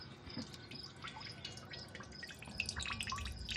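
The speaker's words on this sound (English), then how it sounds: "Yeah, a lot of gas in there and oil. And it's still draining." Gas and oil mixture draining and dripping from the removed injector of a 2013 Dodge Caravan with a no-start fault, a steady run of close, irregular small drips and trickles with no talk.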